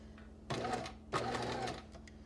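A sewing machine runs two short bursts of straight stitching along a fabric strip, a close, rapid mechanical whir with a pause between runs.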